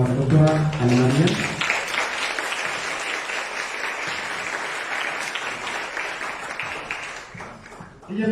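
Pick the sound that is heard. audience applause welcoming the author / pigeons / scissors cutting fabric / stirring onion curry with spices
audience applause welcoming the author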